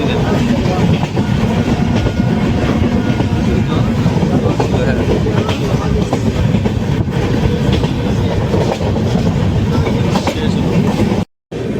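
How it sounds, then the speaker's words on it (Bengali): A Dhanbad to Jammu Tawi passenger train rumbles past close by, a loud, steady roar with rail clatter that cuts off abruptly near the end. "এটা হচ্ছে ধানবাদ টু জম্বুতওয়া এর ট্রেন"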